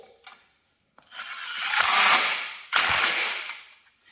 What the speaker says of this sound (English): Then you tighten up this carriage bolt.